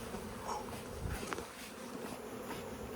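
A honeybee around a beekeeper's comb, a faint, wavering buzz that hums on and off against soft background noise, with no speech.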